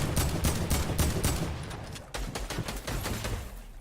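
Bursts of gunfire in a World Cup finals duos match of a shooter video game, dense and loud, with several rapid volleys, a brief break near the middle, then more shots.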